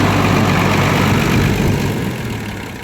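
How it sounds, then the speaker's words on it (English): A farm tractor engine idles with a low, steady rumble close by, then begins to wind down and fade as it is shut off toward the end. "Yep, that's how we shut this tractor off now."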